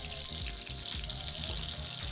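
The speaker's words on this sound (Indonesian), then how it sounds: "Kita panaskan minyak dan kita tumis bumbu halusnya hingga harum ya" Ground spice paste sautéing in hot oil for an Indonesian dish, a steady close sizzle with bright crackling spatter running throughout, mixed with a watery hiss and no voices.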